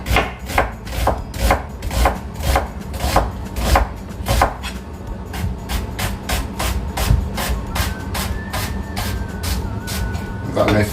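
A knife crushes and chops ingredients for couscous royal on a board, striking in a quick, uneven run of loud, close knocks and thuds. A voice talks over the chopping at times.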